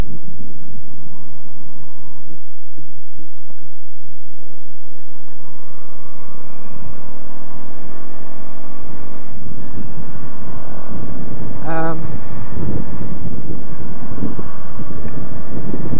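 A Laro Pro Street 350 twin motorcycle engine drones steadily while riding at road speed, its pitch shifting through the run, half buried under heavy, constant wind buffeting on the microphone.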